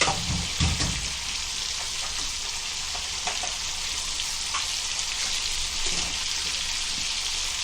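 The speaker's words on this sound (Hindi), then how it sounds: "अभी मच्छी को पलट रहे।" Fish frying in a pan for a Kokani thali, a continuous loud crackling sizzle with a few sharper spatters and thumps early on as the fish is turned.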